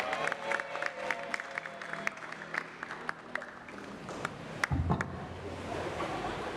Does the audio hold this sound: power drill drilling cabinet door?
no